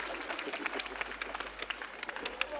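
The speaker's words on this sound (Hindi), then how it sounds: "ताली बजाओ जरा एक बार जोरदार" Audience at a Hindi kavi sammelan poetry gathering gives brief, fairly faint applause, scattered claps pattering at an uneven pace.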